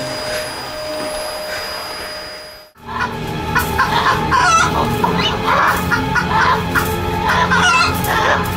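Chickens meant for the market cluck loudly and busily, with crowing among them, after a steady hum that fades out.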